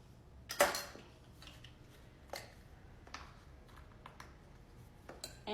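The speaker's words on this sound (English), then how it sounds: "give that a quick stir. That's our dry ingredients" Dry cake ingredients, including baking soda, baking powder and salt, get a quick stir in a bowl for a chocolate cake. Faint, scattered scrapes and light clinks come through at low volume.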